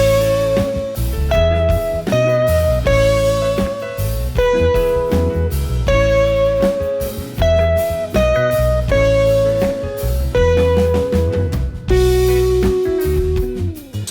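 Guitar plays single-note lines, steady held notes stepping between pitches over a full, loud band backing.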